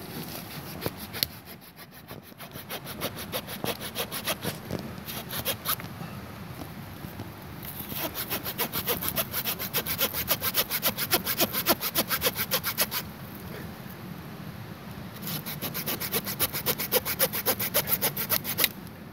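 A Wenger Swiss Army knife saw cuts through dead wood about 3–4 cm thick that is damp from rain. Quick, rhythmic rasping back-and-forth strokes come in bursts with short pauses, close and moderately quiet, with no talking.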